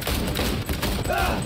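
Rapid bursts of gunfire in the Cyberpunk video game, a dense continuous volley filling the whole moment at close range and loud.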